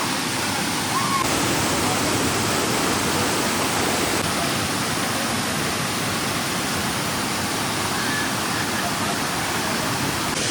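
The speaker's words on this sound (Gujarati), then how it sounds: "તો આ રીતના અહીંયા ધોધ પડે છે, જુઓ છો।" The Pavagadh waterfall roars in a constant, loud, broadband rush of falling muddy monsoon water, with heavy rain adding to the steady wash throughout.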